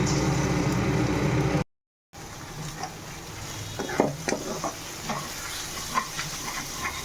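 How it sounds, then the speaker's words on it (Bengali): Eggs frying with masala in a pan for egg tarka, a soft sizzle with scattered stirring clinks and scrapes after a short break, close and fairly quiet. "মশলা ও ডিমটা ভালো করে ভেজে নিতে হবে।"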